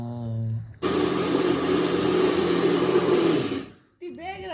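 A kitchen mixer grinder whirs loudly for about three seconds at close range, a harsh steady motor drone that stops abruptly, with speech just before it and just after it.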